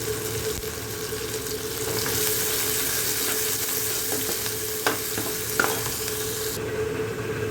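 Chopped onion frying with fennel seeds in a pan, a steady close sizzle with light stirring and a couple of soft utensil knocks near the end.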